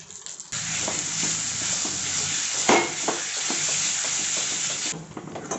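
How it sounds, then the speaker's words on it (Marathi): Ground masala paste sautéing in oil with turmeric, homemade masala and mutton masala, a steady close sizzle with intermittent stirring scrapes and one sharper clatter partway through. "हे वाटण आता हे वाटण चांगलं तेल सुटेपर्यंत आपण परतून घेऊयात"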